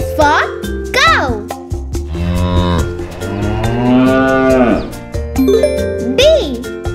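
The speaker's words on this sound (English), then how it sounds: "C is for cow." A cow moos in a long, drawn-out call at moderate loudness, framed by a voice speaking before and after over light chiming music.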